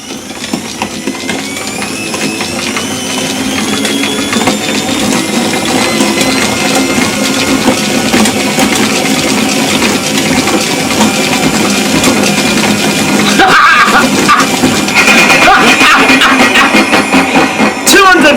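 A small motor used as a wind turbine generator is spun up, giving a steady mechanical whir with clicking, gear-like chatter that rises in pitch and stays loud and close, with someone talking over it.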